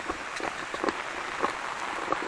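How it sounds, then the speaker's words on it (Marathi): Light drizzle falls outdoors in a Konkan village on a sunny day, a soft steady patter of small drops with a few slightly louder taps, no talking. "बारीक बारीक पावसाची रिमझिम आहे"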